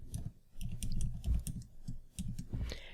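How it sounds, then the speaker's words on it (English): Fingers tap out an Excel XLOOKUP formula on a computer keyboard, a quick irregular patter of close key clicks over about three seconds, with no talk. "let's type in equals XLOOKUP"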